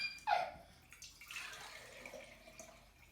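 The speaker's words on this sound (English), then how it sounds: "So Claire, if you could hold the sieve above here, and you just strain the water out." Water splashes, then trickles and drips softly through a sieve into a jar, straining out kefir grains, fading over a few seconds; quiet and close.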